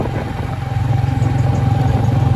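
Motorcycle carrying a groom, heard close as a steady low engine rumble with a rough throbbing pulse that swells slightly louder over a couple of seconds, with no talking over it.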